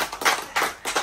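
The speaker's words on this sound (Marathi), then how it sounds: "टाळ्या वाजवा." Hands clapping at a Vat Purnima gathering, three quick bursts of claps spread across about a second, moderately close and without speech.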